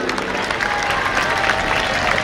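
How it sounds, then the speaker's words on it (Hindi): A large crowd of children at an outdoor environmental event claps together, producing a dense, continuous wash of applause at a steady, fairly loud level. "आप सब बच्चे अपने ही लिए खूब ढेर सारी तालियां बजाइए।"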